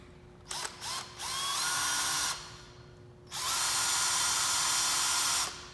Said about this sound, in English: And then you're just going to want to drill a hole.